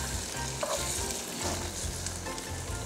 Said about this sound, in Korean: 자, 이제 준비한 두부 팬 위에 하나씩 올려주시고요